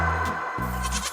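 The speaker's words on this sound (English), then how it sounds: "G for goat." Goat bleating in a children's alphabet song, a short wavering bleat, loud and close, over a steady backing track.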